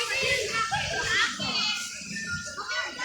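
Children laugh, shout and chatter nearby in a busy outdoor nature park, their lively overlapping voices filling the whole stretch with steady playful noise.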